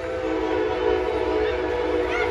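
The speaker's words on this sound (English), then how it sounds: "Oh, there's the train." A train passes near a baseball stadium, its whistle sounding a sustained steady tone over a low rumbling rail drone, close and fairly loud.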